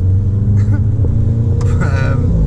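A lowered Volkswagen Golf R, Audi S3 or Cupra rolls over harsh speed bumps, its engine a constant low rumble with a couple of dull thumps partway through as the car bumps and settles.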